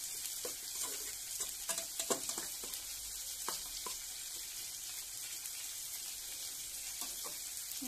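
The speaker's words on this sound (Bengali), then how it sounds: "মশলাটা একটু কষিয়ে নিব।" Spice paste of turmeric, chili, cumin, coriander and salt frying in a pan for a catfish and vegetable curry, a quiet, even sizzle with a run of spoon scrapes and taps in the first half.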